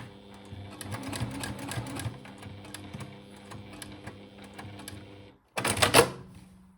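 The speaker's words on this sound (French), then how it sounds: "Je commence par la piqûre d'en haut." A sewing machine runs in quick, rattling bursts of stitching across jersey fabric, close and fairly quiet, then stops briefly before a short final run.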